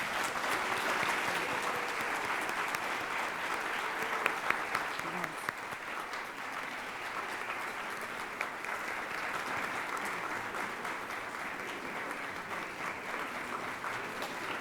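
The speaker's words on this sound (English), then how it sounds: "Let's give them a round of applause." An audience at a civil rights forum applauds a panel, a dense, steady clapping from a sizeable crowd that sustains for about fifteen seconds.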